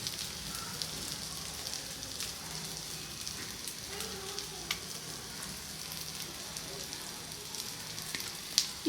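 Masala-coated fish pieces fry steadily in a pan with a continuous dense sizzle and crackle, occasional faint clinks and small pops, with no talk over it.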